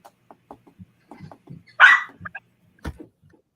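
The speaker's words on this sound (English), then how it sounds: "They bark the whole time." Several dogs bark outdoors in a string of short, scattered yips and barks, with one louder, harsher burst in the middle and a few quieter woofs after it, no talk over them.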